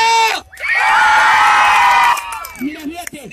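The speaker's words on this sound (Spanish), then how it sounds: "¡El aplauso y el grito!" A street crowd watching clowns perform in Mexico City's Alameda Central erupts in a loud, sustained burst of shouting and cheering, with applause mixed in. It lasts about two seconds and then drops back to a lone voice talking.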